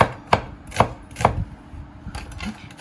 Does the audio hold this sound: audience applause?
no